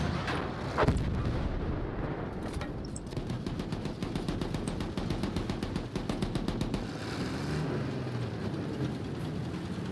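Battlefield 1 battle gunfire: one sharp heavy blast, then fast repeated rapid-fire shots in a dense rattling burst over a constant rumbling din, loud and close.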